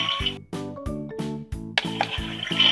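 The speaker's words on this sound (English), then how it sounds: "That toilet really flushes" A toy motorhome's pretend toilet flushes with a chirpy electronic sound effect, a rhythmic series of bright synthetic pulses with a watery hiss toward the end, close and fairly loud.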